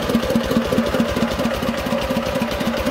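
A 5 kW generator set driven by a Lister engine runs at a steady idle, a loud, close, even chugging beat of firing pulses with a mechanical rattle underneath, and no voices.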